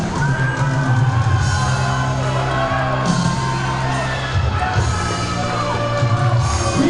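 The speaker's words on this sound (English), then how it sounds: "This crowd on their feet, showing support from the king" A wrestling crowd at an AML event stands on its feet, cheering, whooping and yelling in a dense, sustained roar that fills the arena at steady loudness, with a few louder swells.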